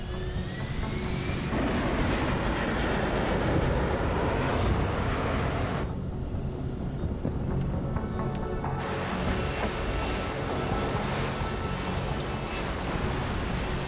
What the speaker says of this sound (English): Kind of a cool flying machine, actually.